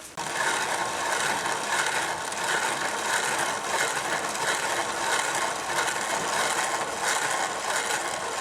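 A grain mill grinds blue Hopi corn into cornmeal, giving a steady, loud, continuous rasping and rattling grind close by, running evenly throughout with no talk.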